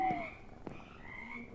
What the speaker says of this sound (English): frogs, toads.